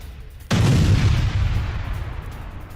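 A single loud mortar explosion from an attack that destroys an armoured vehicle, a sudden heavy boom that rolls out into a long rumbling decay, with no talk.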